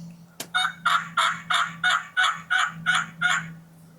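Nine evenly spaced regular yelps from a Hot Hen turkey call in a steady rhythm, loud and close, preceded by a sharp click.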